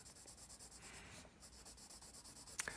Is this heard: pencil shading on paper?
yes